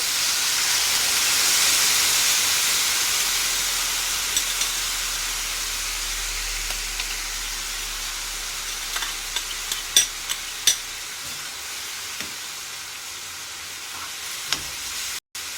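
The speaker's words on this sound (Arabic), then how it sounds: "الفراخ وصلت للمنظر اللي انا عايزاه. هحط لها الصوص بقى دلوقتي." Chicken frying in a pan as barbecue sauce is added, a steady loud hiss and sizzle that slowly eases, with a few sharp clicks and pops near the end.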